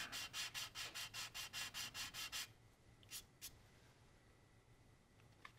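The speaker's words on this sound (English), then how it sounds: "make sure that when we sand, we're not completely burning through everything" Sanding strokes across a primed surface, about eleven quick, even back-and-forth rubs in a steady rhythm, close and fairly loud, then stopping, with a few faint scrapes in the quiet that follows.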